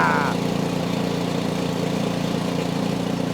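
An auger runs in a home garage, giving a steady, loud motor drone with a low rumbling hum that holds level throughout, and a brief voice is heard at the very start.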